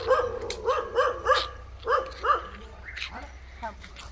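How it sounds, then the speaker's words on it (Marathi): A village dog runs up from near a parked car barking repeatedly in short close yaps, with people talking in between. "तो बघ तिथून कार जवळून कुत्रा आलाय."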